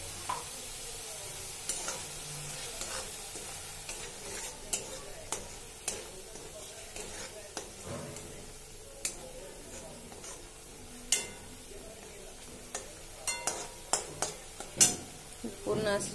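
Tomato, garlic and sesame paste fry in oil for a paneer dish, making a soft steady sizzle while a spoon stirs the pan, with intermittent sharp clinks and scrapes against the metal.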